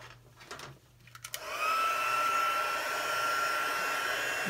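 After a few soft handling clicks, a heat tool switches on over a handmade Christmas card and blows a steady, loud whooshing hum with a thin whine, close and continuous.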